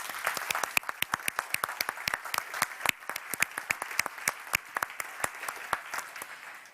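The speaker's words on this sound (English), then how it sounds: "So, big round of applause for our sponsors that made this event happen." A conference audience at an opening plenary claps for event sponsors, dense sharp individual claps forming steady applause throughout, fairly close and without talk.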